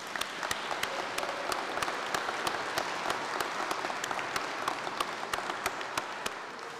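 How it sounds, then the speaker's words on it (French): Congregation in a church applauds choir singers during a Reformation service: steady, fairly faint rhythmic clapping, with a few sharp claps standing out near the listener, continuing evenly throughout. "Je crois qu'on peut les applaudir aussi."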